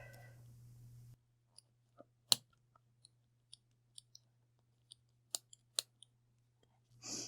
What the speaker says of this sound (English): we're going to grab our scissors and we're going to cut along the lines of the pom-pom